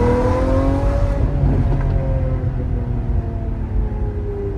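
A rear-wheel-drive car engine revs loudly and steadily, its pitch rising and then falling as it accelerates, close up with no talking.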